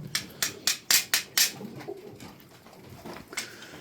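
Tumbler pigeons coo nearby, opening with a quick run of six sharp, loud clapping bursts and fading into softer, scattered sounds.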